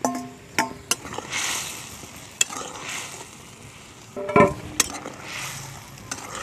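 Fried eggplant slides into a boiling sea fish curry in a pan, giving a close bubbling sizzle broken by a few sharp clinks and knocks of a spoon against the pot.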